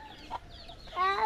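Native chickens on a small farm give a short burst of close clucks, one brief call followed by a louder, longer cluck.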